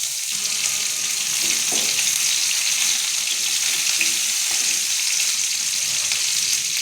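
Chopped shallots sizzle in hot groundnut oil with mustard seeds, urad dal and dried red chillies, giving a steady bright crackling hiss close up with no talking.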